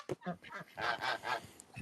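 Geese honk nearby in a quick series of nasal, brassy calls, several overlapping honks over about two seconds, fairly clear against a quiet background.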